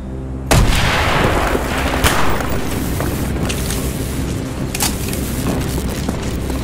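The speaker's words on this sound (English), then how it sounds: "Mason, blow a hole in that fucking wall." A heavy blast goes off suddenly and loudly in Call of Duty Black Ops as explosives blow a hole in a wall. A long rumbling roar follows for several seconds, with a few further sharp cracks.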